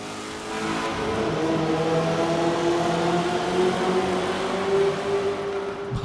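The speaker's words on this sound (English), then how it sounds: "there is at least one car that we have found that sounds exponentially louder when you enter the tunnel, and that is the Abarth 124 Spider" Abarth 124 Spider engine in Forza Horizon 4 driving through a tunnel, a loud, sustained, rising mid-pitched engine drone with a steadily climbing note and echoing reverberation, no voices.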